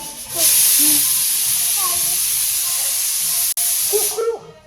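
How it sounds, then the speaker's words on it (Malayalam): A loud, continuous hissing whistle of a pressure cooker releasing steam, lasting several seconds, with voices talking faintly underneath. "കുക്കറിന്റെ ഈ വിസിലടിക്കുമ്പോ"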